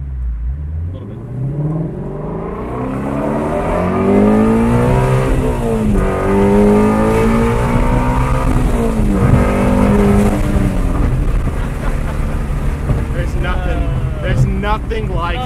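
A Shelby GT350 Mustang with windows down revs its engine hard, the note climbing and falling in loud sweeping pulls that dominate, with a person speaking over it.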